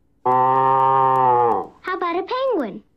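Cartoon dog imitating a cow: a loud, long, steady moo followed by a few shorter wavering lowing calls that slide downward, close and alone with no talking.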